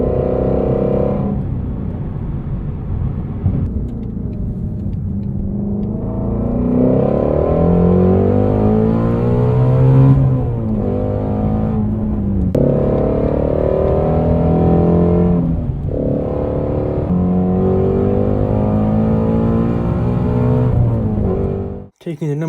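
A Shelby Mustang GT350R's 5.2-litre naturally aspirated Voodoo V8 roars loudly and close, rising and falling through repeated revs and gear pulls. The engine sweeps upward in pitch several times with brief dips between, and a sharp cut-off comes at the end.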